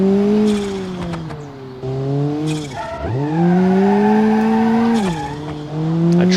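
Rally car in BeamNG.drive skidding under the handbrake, its engine note dipping and then swelling again as the tires squeal through the slide, loud and close, with no talk.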